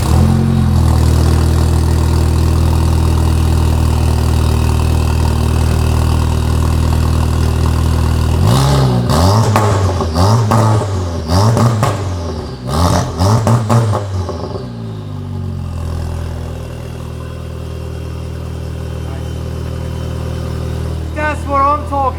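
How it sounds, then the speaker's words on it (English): A Lamborghini bought from an exotic car dealer idles with a deep steady rumble, then gets several sharp, loud revs in quick succession before settling back to a smooth idle. Some talking is faintly audible. "Let's do a cold start."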